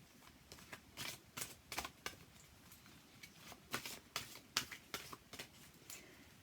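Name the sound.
shuffling a deck of cards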